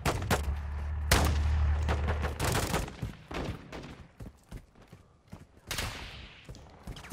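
Shots in the Modern Warfare 2 remake beta, with several sharp, loud cracks and some short bursts of fire that fade into quieter, scattered reports and echoes.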